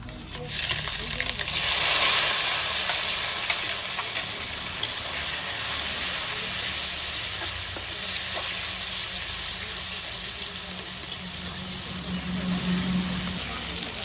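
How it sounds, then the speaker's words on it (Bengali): Onion and tomato drop into hot oil already frying dried red chillies and cumin seeds. A loud burst of sizzling is followed by a steady, close hiss and bubbling with occasional stirring. "এখন তেলের মধ্যে দিব এই পেঁয়াজ আর এই টমেটো"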